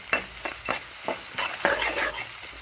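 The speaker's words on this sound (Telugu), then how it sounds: "ఉల్లిపాయలు వేగుతూనే ఉంటాయి." Onions sizzle and fry in a hot pan of tempering with asafoetida, crackling steadily up close with intermittent stirring scrapes.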